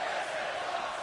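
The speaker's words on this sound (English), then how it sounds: "this capacity crowd making some noise on their" A capacity crowd at a professional wrestling arena roars and cheers in a dense, continuous wash of noise, heard briefly and at a distance.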